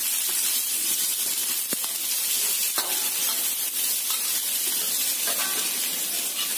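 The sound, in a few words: onions sautéing in a pan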